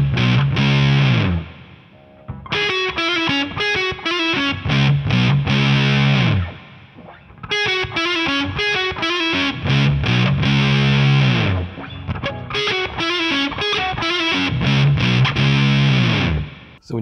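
Gritty low-gain electric guitar distortion through a JPTR FX Warlow pedal in low-gain mode, playing a heavy, chugging riff with repeated chord stabs and short pauses between phrases.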